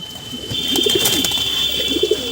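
Male pigeons coo in soft, low bursts close by, with a steady high whine running underneath.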